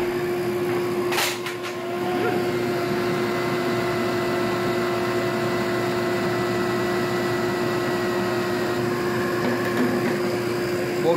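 A dust extractor runs steadily through a 2.5-inch hose, a constant loud airy roar with a steady motor whine, preceded by a brief clunk as it switches on, with no speech over it.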